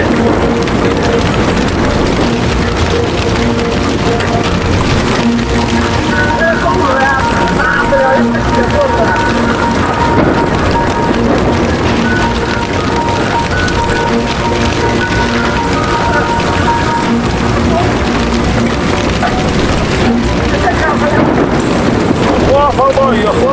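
Heavy storm rain with hail pours down in a dense, continuous roar, and wind buffets the microphone throughout while a voice talks under the downpour.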